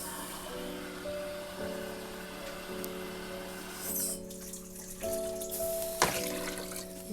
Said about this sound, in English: And we added one more glass of water.